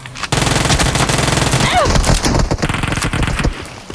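Rapid automatic gunfire in PUBG Mobile, loud dense bursts of shots for several seconds, close and continuous, ending abruptly.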